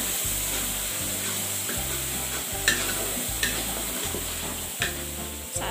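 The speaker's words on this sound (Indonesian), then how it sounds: "ini daun salam sama lengkuasnya, ikut ditumis sampai harum ya" A ground spice paste with lemongrass, bay leaf and galangal sautés in a pan for a potato and egg semur, hissing steadily while a spatula scrapes through it in regular, evenly spaced strokes.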